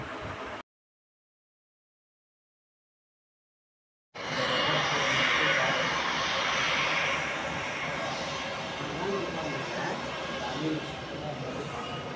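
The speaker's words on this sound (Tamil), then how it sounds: "ஃப்ளைட்டு டேக் ஆஃப் ஆகிடும்" An airplane takes off near an airport, a broad steady roar that starts abruptly after a silent gap and holds loud and close, with voices talking beneath it.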